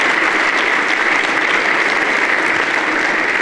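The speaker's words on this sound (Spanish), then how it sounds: "¿Podrás darle un aplauso al Rey? Dáselo con ganas." A church congregation at a Sunday sermon bursts into sustained, even applause, a full roomful of clapping that holds steady throughout without a break.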